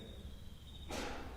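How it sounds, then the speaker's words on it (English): Faint, steady high-pitched cricket chirring in a quiet night setting, ending in a sudden burst of hiss. "to crickets on a summer night."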